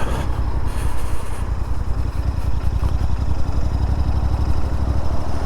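Royal Enfield Interceptor 650 motorcycle riding through town, a steady low engine drone with wind rush running loud and continuous, close to the rider.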